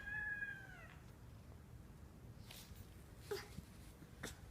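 A pet cat meows once, a short harmonic cry at the start, close by, followed by faint rustling and small handling noises in a quiet room.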